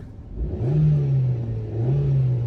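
A revvy little Suzuki car engine blips up, with its pitch climbing, holding, and then rising again in a second rev. The engine sounds loud and close, with no talking over it.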